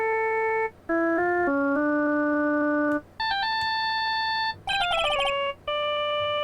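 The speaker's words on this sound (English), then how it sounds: "And I bet it was this ringtone that caused it." An electronic phone ringtone in Phoenix Wright plays a bright, beeping melody in several short phrases with brief pauses between them, clear and close.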